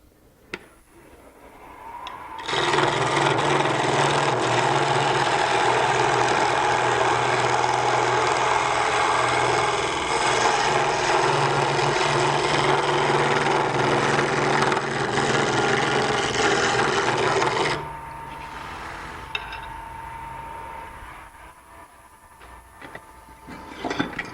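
A straight-edged scraper cuts wood on a lathe during furniture turning, braced on the tool rest: a loud, steady, rough whirring cut lasting about fifteen seconds, then dropping to the quieter hum of the spinning lathe.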